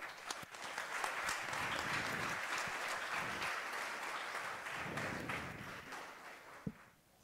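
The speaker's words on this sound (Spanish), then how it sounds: "Fuerte el aplauso." Festival crowd at a national English singing and spelling contest breaks into loud, dense applause that fills the hall for several seconds, with a sharp single clap or knock standing out near the end.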